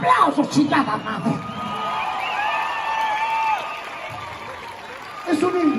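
A concert crowd at a show in Dallas, Texas, cheers, whoops and applauds loudly at the start and again at the end, with a sustained tonal sound in between.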